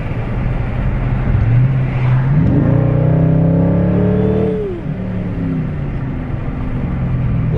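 A car engine revs loudly through aftermarket exhaust pipes, heard up close from the driver's open window: a deep rumbling idle rises into a long throaty rev with climbing pitch, then drops back to a steady low burble.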